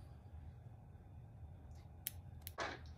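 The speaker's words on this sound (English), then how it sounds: "And then we can go ahead and cut this yarn." Scissors snip through crochet yarn while making a frog beanie: two or three quick, crisp cuts in close succession after a quiet stretch, close by but faint.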